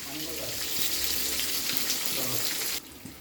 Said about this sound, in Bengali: আস্তে আস্তে করে আমি বেগুনগুলো ছেড়ে দিচ্ছি। আর এটা কিন্তু ছাঁকা তেলেই ভাজতে হবে।